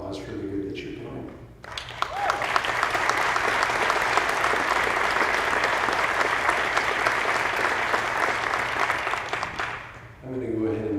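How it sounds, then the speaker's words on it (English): Steady, full applause from an audience at a high school parent meeting, lasting around eight seconds, with a speaker's voice briefly before and after. "You all deserve a big round of applause for the good that you're doing."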